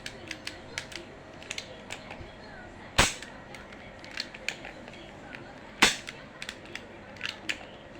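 Air gun shots at targets come as two sharp, loud cracks a few seconds apart, with scattered light clicks and taps of handling in between.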